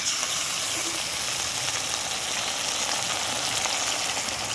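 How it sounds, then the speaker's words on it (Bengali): A ginger and cumin paste hits hot oil in a pan, producing a loud, steady crackling sizzle that fills the whole stretch evenly, close and continuous with no talk. "তো এখন দিয়ে দেবো আদা জিরে বাটা"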